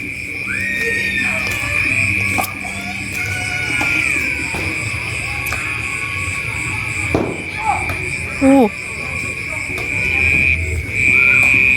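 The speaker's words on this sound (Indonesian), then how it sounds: "Rame ya bos, anak-anak pada main petasan ya bos." Children set off firecrackers outside a house during a year-end family gathering, with scattered pops and whistling bursts over a steady high insect-like drone, while people talk and shout nearby.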